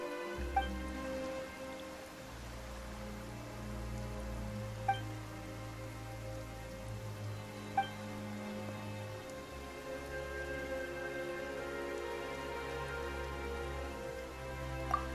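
Steady rain pours down in Genshin Impact during a Fontaine Archon Quest scene, a continuous even hiss with a few soft isolated drips standing out, and a low ambient music drone sits underneath throughout.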